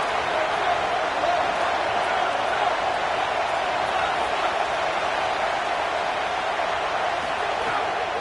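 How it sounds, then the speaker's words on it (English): Home crowd roaring in a stadium during College Football 27 gameplay: a dense, constant wash of crowd noise fills the whole stretch at a steady loud level without clear peaks, with commentary talk faintly mixed in underneath. "Man, this crowd really affecting the football game."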